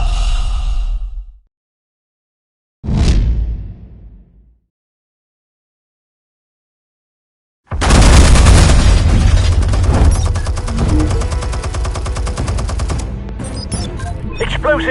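In a Batman scene, gunfire and explosives erupt in a loud, dense barrage of shots and bursts that lasts several seconds, after two short earlier sounds separated by silence.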